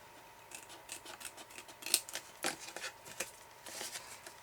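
Scissors snipping through a paper card, a series of short crisp cuts spaced irregularly, close and moderately quiet.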